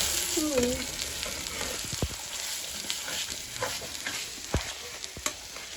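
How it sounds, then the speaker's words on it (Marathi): Eggs frying and being stirred in a pan for egg bhurji, a steady close sizzle with spatula scrapes and a few sharp taps, with brief speech early on. "आता मस्त फ्राय करून टाकायचं"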